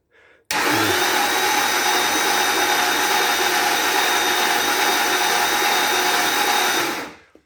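A Holden 308 V8 engine's oil pump being primed by a power tool, heard as one loud, steady, high-pitched whir running continuously for about seven seconds before winding down.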